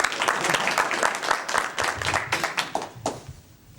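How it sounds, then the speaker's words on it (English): An audience claps steadily at a Kyusho Jitsu martial arts demonstration, with dense, close applause that slowly thins out toward the end, plus a little background talk. "Chad Siebert, could you give him a round of applause for taking that hit?"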